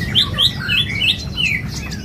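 Small flycatcher songbird singing a quick series of high, bright chirping whistles, close and clear, over a steady low rumble in the background.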